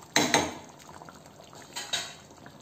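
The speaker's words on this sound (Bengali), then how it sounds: "আমি এবার একটা প্লেটে নামিয়ে নিচ্ছি আলু পটলের রসা চিংড়ি দিয়ে" A potato, pointed gourd and shrimp curry is served from the pot onto a plate: a pair of sharp metal-on-dish clinks, then a quieter stretch with two more clatters near the end.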